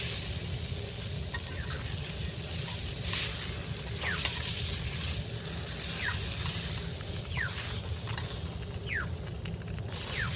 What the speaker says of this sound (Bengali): উল্টিয়ে পাল্টে খুব ভালো করে মাছের মাথাটা ভেজে নিচ্ছি।